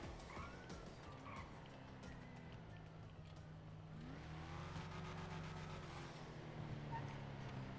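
In GTA V Online, a newly released DLC car's engine revs and accelerates, with a steady low drone and a pitch sweep rising midway. The sound stays fairly quiet and continuous, without speech over it.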